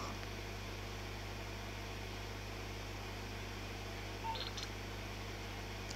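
An in-game phone in GTA Online accepting an invite gives a brief electronic beep partway through, faint against a steady hum of background noise.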